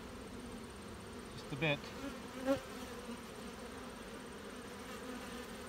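Honeybees humming in a hive during an inspection, a soft steady buzz close by with a couple of louder passes of bees flying near, and a voice speaking briefly.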